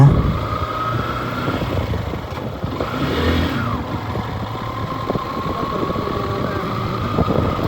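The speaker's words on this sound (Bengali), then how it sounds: "বেশ কিছুক্ষণ বাইক নিয়ে ঘুরলাম" A rented motorbike ridden around Saint Martin island, its engine droning steadily and close throughout with wind and road noise, with faint voices in the background.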